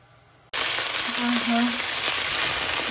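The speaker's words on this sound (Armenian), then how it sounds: "սովորականի նման ավելացնելու եմ կարտոֆիլը" Potatoes frying in a pan with a steady, loud sizzle that starts abruptly after a brief quiet moment and continues evenly, close up, with no talking.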